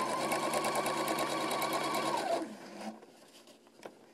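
Sewing machine topstitching elastic on a cloth AIO diaper, a fast, steady mechanical whir that runs for about two seconds and then stops, followed by faint handling noises.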